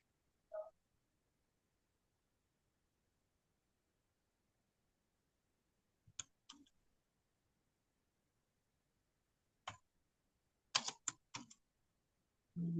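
Sparse keystrokes on a computer keyboard, faint isolated taps and a quick cluster of clicks spread across otherwise quiet moments.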